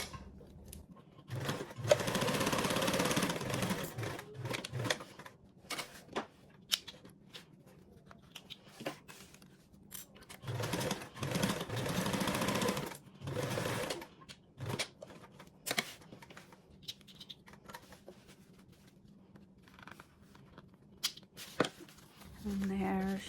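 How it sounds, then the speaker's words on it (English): A sewing machine basts a fabric interior slip pocket panel for a bag, running in repeated close bursts of rapid stitching with pauses between, while someone talks over parts of it. "And now we are going to go ahead and baste these"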